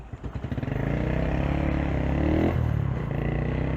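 Small CG motorcycle engine running with loose screws, a close, steady throbbing idle that rises into a brief rev, with a buzzy mechanical rattle through it.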